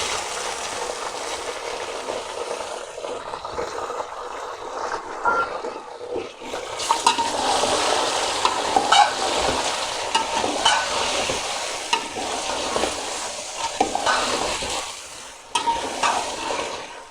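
Chicken frying with lightly browned onions in a pan for chicken nihari, a loud continuous sizzle close by with stirring scrapes and clatter that grow busier partway through.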